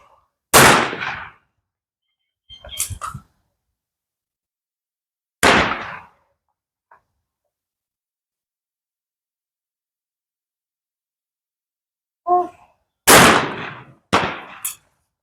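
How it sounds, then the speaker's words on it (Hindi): A shotgun fires at an outdoor trap shooting station: six sharp, loud reports in irregular sequence, separated by long quiet gaps, with faint clinks between some shots. "आपने देखा शूटर ने फर्स्ट स्टेशन पर फायर किया"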